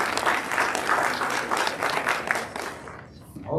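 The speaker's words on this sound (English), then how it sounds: "So let's have a round of applause for all of our contestants." An audience at a county spelling bee applauds the contestants with sustained, lively clapping that swells and stays full before thinning and fading toward the end, a faint voice emerging as it dies away.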